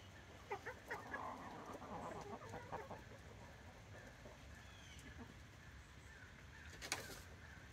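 Chickens peck and cluck around a pumpkin outdoors, a few soft clucks and scratchy sounds early on, faint against ambient noise, with a sharper knock near the end.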